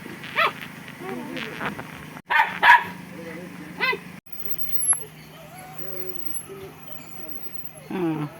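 A dog lets out a few sharp barks and higher whining yelps, spaced apart, while people talk quietly nearby.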